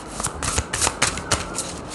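Tarot cards being shuffled close up, a rapid series of crisp riffling bursts in uneven rhythm over two seconds, with no talking.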